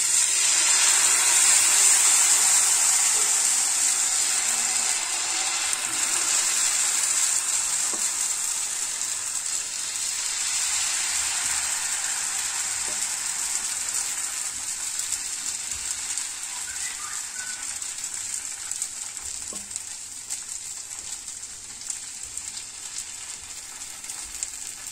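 Bhagar fasting dosa batter frying on a hot pan gives a steady, close sizzle that starts loud and slowly softens over the whole stretch, with no talking.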